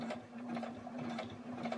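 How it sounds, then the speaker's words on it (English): A sewing machine backstitches elastic into a mitten, its fast even needle chatter running steadily and close, with quick rhythmic pulses throughout. "And then I'm going to backstitch."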